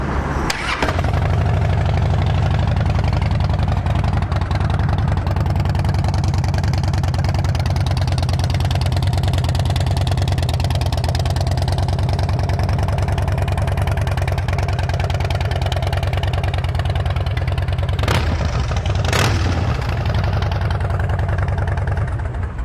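A 2009 Harley-Davidson Dyna Super Glide with a fuel-injected engine idles steadily after starting, a loud close low rumble that stays even the whole time, with a couple of brief sharp noises near the end.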